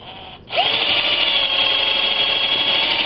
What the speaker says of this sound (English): Now we're ready to drill the other side.